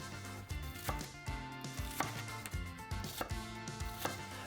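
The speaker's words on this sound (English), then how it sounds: "Now take 1 washed red pepper, slice the end off and remove the core and seeds, then chop into small pieces." A sharp knife chops a cored, seeded red pepper into small pieces, giving a series of close taps on the board under background music.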